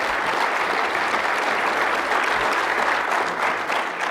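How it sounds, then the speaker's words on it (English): Crowd applause for a baseball team at a leadoff dinner, a loud, continuous wash of clapping from a room full of guests that stays steady from start to finish. "So if we could all get just one more round of applause for the boys."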